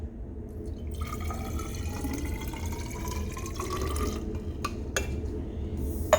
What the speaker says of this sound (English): So we're gonna pour out the water in here.